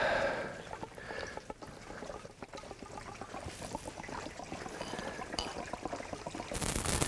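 Fresh gasoline is poured into the fuel tank of a snowplow engine during an ice storm, a continuous soft trickle and gurgle of liquid that is fairly faint, with a louder rustle at the end.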